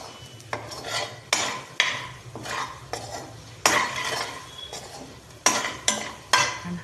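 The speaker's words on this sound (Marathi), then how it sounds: "छान हलवून घेतलं आपण त्याला." Brinjal curry stirred in a pan, a run of scraping, clinking spoon strokes coming in bursts about once a second, close and fairly loud with a soft simmering bed underneath.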